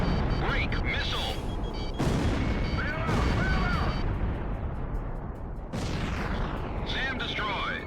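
SAM site blown apart by missiles in Ace Combat Zero: The Belkan War, heavy booming blasts and roaring detonations in several loud bursts over jet engine noise, with radio voices talking in between.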